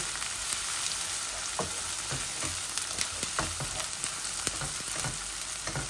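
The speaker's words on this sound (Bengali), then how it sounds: "এই দেখো আমার পেঁয়াজগুলা ভাজা হইতেছে।" Chopped onions fry in a pan for a chicken bhuna, giving a steady close sizzle with repeated scrapes and clicks of stirring throughout, and no voices.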